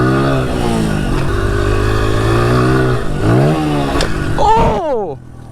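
A 110 pit bike used as a trail bike revs loud and close, its engine note climbing and falling through several throttle blips, with people talking over it and a sharp rising whine near the end.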